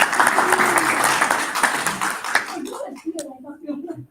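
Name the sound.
audience applause after a seminar announcement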